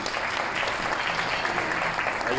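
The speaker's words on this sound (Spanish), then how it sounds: "Un aplauso para ella" Audience at an award ceremony applauds a jury member being introduced, a continuous wash of clapping from a large crowd, steady and even throughout.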